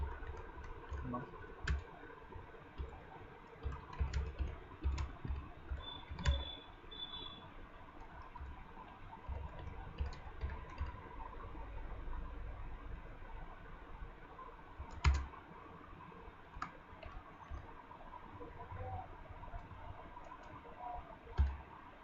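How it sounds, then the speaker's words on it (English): Fingers type on a computer keyboard, the soft key clicks coming in irregular bursts with short pauses and a few sharper presses, faint and close against a low background hum. "In the first box you have to type the question."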